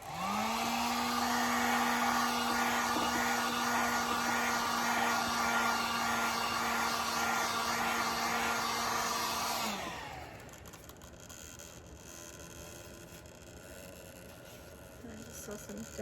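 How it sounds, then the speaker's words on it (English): A heat gun blows steadily on a glitter tumbler with a loud, constant whirring roar for about ten seconds, then winds down and cuts off, leaving quiet handling noises. "I'm gonna go ahead and hit this with the heat gun again."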